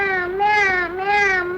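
A human voice imitates a cat, giving two drawn-out, wavering meows in quick succession. The voice is close and loud.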